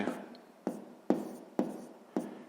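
Handwriting numbers for a sixth-grade maths exercise, five crisp pen strokes on paper at an even pace, close and quiet, with no voices over them.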